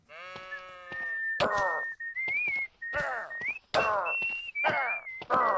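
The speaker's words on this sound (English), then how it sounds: "The whistling, like, sounds like it's coming from my left there." Sustained melodic whistling with sliding tones recurs over loud, bursty game noise and bleating-like animal sounds across several seconds, in Minecraft.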